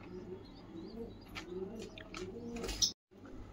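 Highflyer pigeons, a male and female pair kept in Hyderabad, coo softly in repeated low throaty phrases, with a few brief chirps and light rustling nearby.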